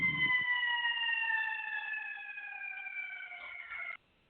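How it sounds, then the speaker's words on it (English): A wailing fire emergency siren sweeps past, loud at first and gradually fading, ending abruptly with no talk over it. "Let me let that siren pass."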